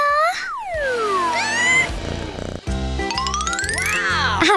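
A cat meows repeatedly in loud, close calls with rising and falling pitch, mixed with cartoon-style sound effects and a brief jingle.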